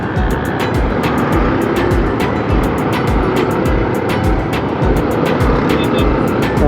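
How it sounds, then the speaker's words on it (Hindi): Dense road traffic in Quetta, a steady close wash of engines and passing vehicles with repeated sharp horn-like or clicking bursts layered on top, loud and continuous without pause. "अब देखें ट्रैफिक का हाल भाई"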